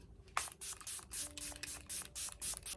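Maliani Make It Last setting spray pumped from a bottle, about a dozen quick close hissing bursts in a fast, even rhythm.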